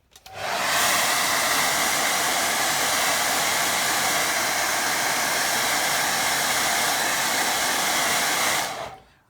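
A hair dryer blasts steadily for about eight seconds to dry a wet watercolour painting of a lake. The roar is loud, close and unbroken, switching on abruptly near the start and cutting off at the end.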